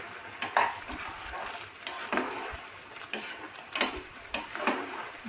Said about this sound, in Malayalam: ഈ നെയ്യൊക്കെ ഇട്ട് കൊടുത്തിട്ട് എല്ലാം കൂടി ഇളക്കി ഏകദേശം കുറുകി വരുന്ന സമയത്ത് നമുക്ക് ഫ്ലെയിം ഓഫാക്കാം